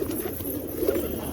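Pigeons kept for racing-tournament preparation coo softly nearby in low, repeated throaty calls against a quiet background.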